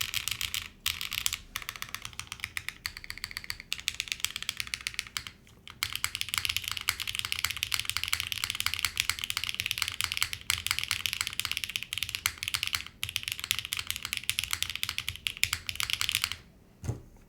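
Rapid clacky typing on a custom Space82 Bladerunner mechanical keyboard, continuous close keystrokes with brief pauses, crisp and loud with no voices.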